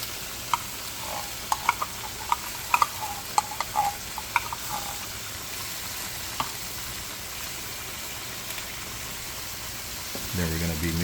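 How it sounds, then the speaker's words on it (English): Beef mechado ingredients and tomatoes are mixed in a pot over a steady low sizzle, with scattered light spoon clicks against the metal and a deeper churning rumble near the end. "mixing everything in here"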